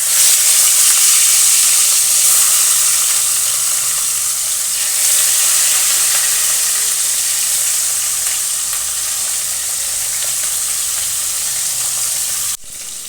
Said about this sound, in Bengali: কড়াইয়ে পরিমাণ মতো সর্ষের তেল দিয়ে দিয়েছি, তেল গরম হয়ে গেছে, এবার মাছ দিয়ে দেবো।